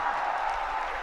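A crowd claps together at a Bageshwar Baba religious gathering, a dense, steady wash of applause that fills the whole short moment without a break.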